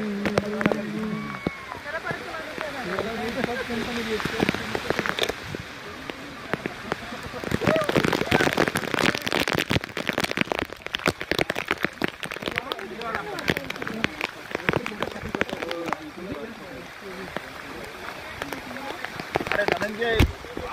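Steady rain hisses down on a monsoon trek through the Sahyadri mountains near a river and waterfall, a continuous wash with scattered drop patters, while several people talk and call out close by throughout.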